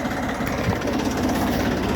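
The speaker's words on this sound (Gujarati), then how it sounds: "તો થોડું ટ્રેક્ટર આગળ લઈ લે" A tractor engine runs steadily throughout, a constant low rumbling drone with a slight knocking texture, close and continuous with no voices.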